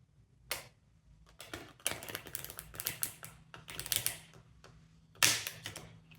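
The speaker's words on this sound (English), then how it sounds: "Just going to shuffle like that in order to get some reversed cards as well." A deck of tarot cards is shuffled by hand in bursts of quick, close riffling clicks and taps, with short pauses between them and no talking.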